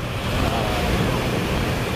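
A broad, continuous roar of surf with wind buffeting the microphone, loud and close, with no distinct individual wave breaks.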